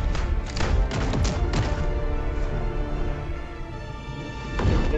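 A recoilless rifle fires in Helldivers 2, heavy booming thuds in quick succession early on, then a steady loud rumble of combat, with another blast at the very end.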